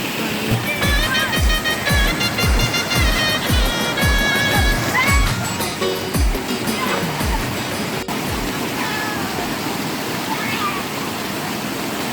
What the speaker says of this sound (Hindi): ये सरोदा बाग देखो यहाँ पे झरना